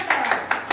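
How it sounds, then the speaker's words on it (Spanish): A few people clap their hands briefly, close by, in a short patter of claps for both teams at a robot challenge competition in Lima, Peru. "Aplausos para ambos, por favor, chicos."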